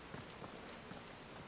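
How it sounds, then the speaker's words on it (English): Steady rain effect inside a partly open-topped tower in the video game Final Fantasy XVI, a dense continuous hiss of falling drops with faint scattered patters, even and unbroken throughout. "we have this really cool rain effect, we want to show it off"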